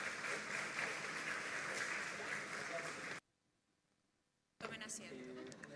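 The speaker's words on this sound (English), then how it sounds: "We will give all the three of them a big round of applause." A dense, steady roar of audience applause at a biotech conference fills the first three seconds, then cuts off abruptly into near-silence before a quieter stretch of room sound returns.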